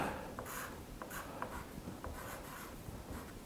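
An addition problem is written out by hand, likely with a pen or marker, making short scratchy strokes and light taps close up over a faint steady hiss, with no one speaking.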